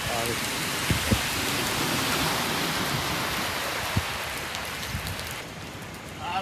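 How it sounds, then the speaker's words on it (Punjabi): Heavy rain pours down steadily in Sharjah, a dense, close hiss of water on surfaces with a few louder drops and thumps scattered through it, easing slightly toward the end. "ਕਾਫੀ ਜ਼ਿਆਦਾ ਬਾਰਿਸ਼ ਹੋ ਰਹੀ ਹੈ"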